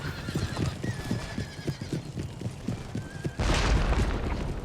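Cavalry horses charging in an American Revolution strategy game, with rapid galloping hoofbeats, whinnying horses and a sudden burst of gunfire near the end.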